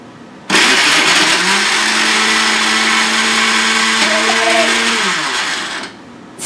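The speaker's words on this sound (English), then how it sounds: "I'm going to hit the liquefy button" A blender on its liquefy setting pureeing avocado for avocado ice cream, a loud steady motor roar that starts abruptly, holds for about five seconds, then winds down and stops.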